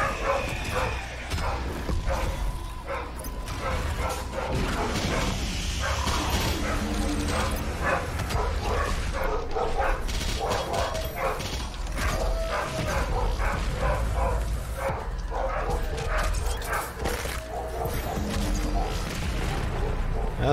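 A pet dog barks and yips in bursts amid a busy, mechanical-sounding background, with a garbage truck arriving outside; the barks are mid-distance and repeated across the stretch, with faint voice-like sounds mixed in.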